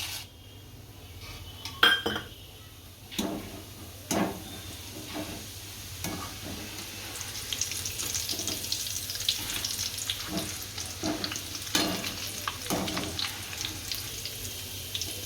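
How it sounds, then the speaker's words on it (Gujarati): Steady hiss of roasted chickpeas frying in hot oil for chevdo, punctuated by repeated scraping and clinks of a spoon against the pan. "પહેલાં બધા મસાલા તળી નાખશું આ ડાળિયા તળશું"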